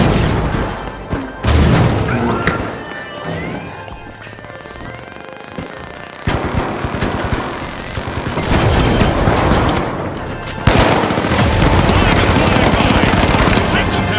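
A Blitz Grenade goes off in the arena shooter The Finals amid loud, dense game chaos: sharp bursts, crashes and rapid gunfire layered with an announcer-style voice, surging in at intervals over about fourteen seconds.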